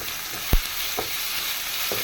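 Onions with ginger paste and spices sautéing in a pan for a goat liver curry, a steady soft sizzle with a few louder stir scrapes, close and alone.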